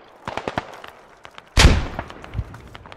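A frag grenade detonates in the military shooter Squad, a single loud blast partway through, preceded by scattered distant gunshots and followed by a fading rumble with no talking.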